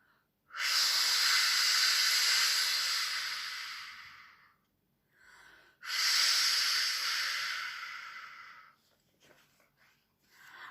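A voice imitating waves with two long, loud breathy hissing rushes, each swelling and fading, separated by a short pause, then a few faint breaths.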